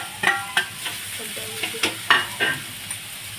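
Carrots and cabbage for a momo filling are stir-fried in a pan, with a quick series of close scraping and tapping strokes of a spatula over a soft sizzle, roughly three or four strokes a second.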